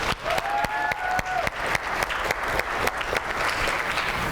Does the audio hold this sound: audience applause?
yes